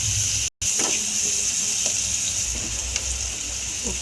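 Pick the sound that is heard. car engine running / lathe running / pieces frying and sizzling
pieces frying and sizzling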